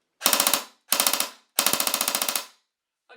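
An S&T PP-19 Bizon airsoft electric gun fires three short full-auto bursts. Each is a rapid, rattling string of about eight shots, loud and close, with brief pauses between bursts.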